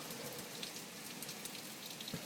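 Rain from Hurricane Irene in 2011 falls steadily onto surfaces, a dense even patter with some wind noise and occasional louder drops, fairly faint and with no voices.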